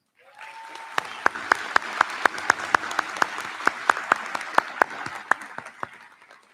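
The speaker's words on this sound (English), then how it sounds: "Please join us in a round of applause for our veterans." Audience applause for veterans at a commencement ceremony, a dense steady wash of many hands clapping that swells in and carries on for several seconds before tapering off.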